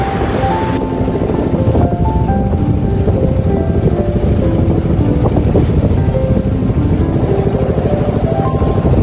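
Boat crossing the Padma river toward a char, a loud steady engine drone with water rushing and wind buffeting the microphone throughout, no voices.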